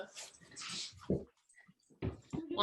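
A dog at home whimpers and whines in short, high, broken bursts with brief pauses between them, fairly close and clear, heard during an online youth soccer training session.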